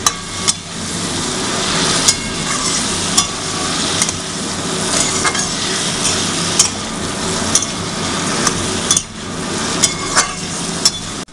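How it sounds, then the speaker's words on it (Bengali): Turmeric being stirred into a Bengali home-style soybean curry in a pan: a steady, fairly loud sizzle runs throughout, broken by sharp spoon scrapes and knocks against the pan every second or two, with no talking. "তারপরে হলুদ দিয়ে কিছুটা আমরা জিনিসটাকে নাড়াতে হবে"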